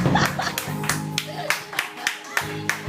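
An audience claps in a quick, even rhythm after a song at a concert while voices talk over the applause.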